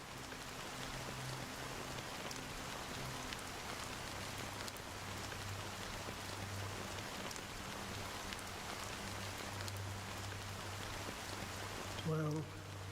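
Steady rain falls in the video game Honkai Star Rail, a dense continuous patter on surfaces with a low background hum beneath, even and moderately faint throughout.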